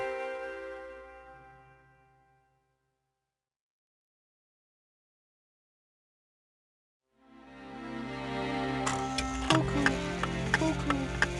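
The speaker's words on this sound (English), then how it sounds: "when Pooh heard his cuckoo clock, he knew it was time for something" A cuckoo clock in a Winnie the Pooh storybook tale ticks in a quick, even rhythm, rising after a stretch of silence and set against gentle music tones.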